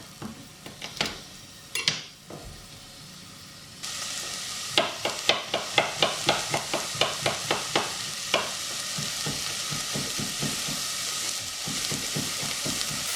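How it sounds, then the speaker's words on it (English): Onions hiss and sizzle steadily in a hot pan while frying for a sweet potato and chickpea curry, with repeated scraping and tapping of a utensil stirring them, close and fairly loud. "Now that my onions are really sizzling away"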